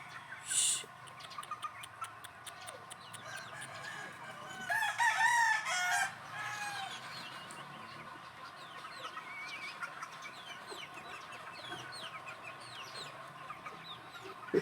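Free-ranging chickens cluck softly in a yard while a rooster crows loudly twice nearby, once in a short early burst and again in a longer call, with faint background clucking continuing throughout.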